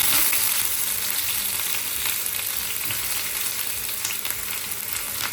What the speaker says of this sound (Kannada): ಎಣ್ಣೆ ಕಾದಿದೆ ಇದಕ್ಕೆ ನಾನು ಈರುಳ್ಳಿ ಹಾಕೋತಾ ಇದ್ದೀನಿ